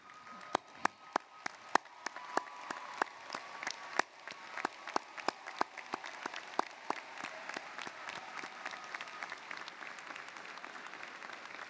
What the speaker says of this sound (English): Will the graduates and faculty please stand and join me in a round of applause to honor those